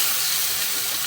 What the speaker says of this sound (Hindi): चिकन को आपको अच्छे से फ्राई करना है प्याज के साथ में।